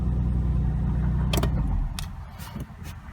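A 2005 Dodge Magnum wagon's engine idles just after starting on a new battery, a close, steady low rumble that dies down after a couple of seconds, followed by a few light clicks.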